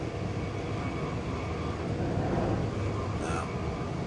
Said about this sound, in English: Alright, so we're on the train to Berlin.